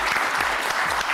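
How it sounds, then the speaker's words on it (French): A studio audience at a French television talent show applauds loudly and steadily, a dense wash of clapping that fills the whole moment. "on les applaudit très très fort"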